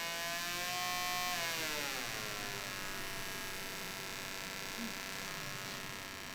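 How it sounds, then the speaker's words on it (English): Electric motor spinning, a steady buzzing whir whose harmonics sweep downward as the speed changes, then hold a constant drone, loud and close with no talk. "So here you can also hear the quicker that the motor spins."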